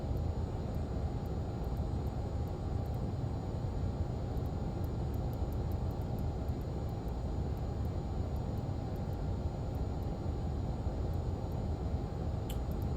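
The jet engines of a Learjet 35 in Microsoft Flight Simulator give a steady, broad roar that holds at a constant level throughout, with no talking over it.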